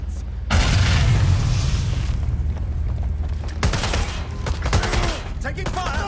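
Heavy gunfire in the video game Watch Dogs Legion, sustained loud bursts and booms over a rumbling bed, with shouted voices mixed in.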